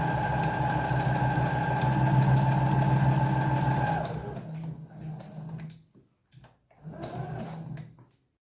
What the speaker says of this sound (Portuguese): nós vamos lá na máquina e vamos fazer uma costura bem em cima dessa linha que eu desenhei